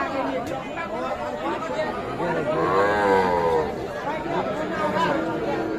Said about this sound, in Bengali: আমরা দেখছি এপাশে বেশ কিছু বাছুর